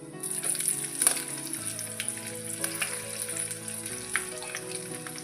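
Green chillies fry for upma in a pan, a steady close sizzle with small crackles and pops, a low hum running underneath.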